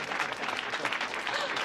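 A crowd at a public gathering breaks into brief, dense applause, a continuous bright patter of many hands clapping close by with no voices on top.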